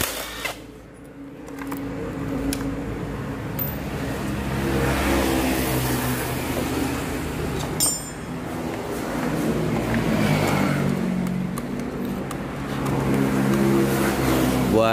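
Honda Scoopy automatic scooter engine running low on oil, revving steadily at close range with a harmonic mid-range drone that rises and falls in pitch over several throttle changes, no voices.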